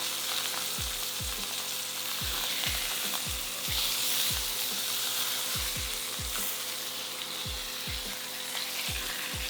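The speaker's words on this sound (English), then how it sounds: "I'm sitting it on the fat so that the fat actually is seared and gets nice and toasted." Sirloin steak seared fat-side down in a hot pan with garlic, giving a dense, continuous sizzle close up, punctuated by a regular series of low popping thumps.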